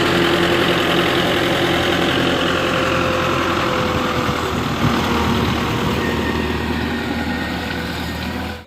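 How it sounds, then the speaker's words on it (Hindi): Belarus tractor engine straining as it pulls a FARMKING disc harrow with sixteen discs through a field, a loud, steady diesel drone with a low throbbing rumble, continuous and unbroken throughout, with no talk. "ट्रैक्टर का काफ़ी ज़्यादा जोर लगता है ये तुम देख सकते हो।"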